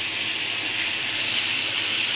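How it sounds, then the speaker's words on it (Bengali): Water poured from a vessel into a pan of fish curry (bata or chara pona fish with ridge gourd, potato and tomato), a steady close hissing pour with sizzle-like broadband wash, continuous and alone. "এবার আমি এটাকে জল দিয়ে ঢেকে দেবো।"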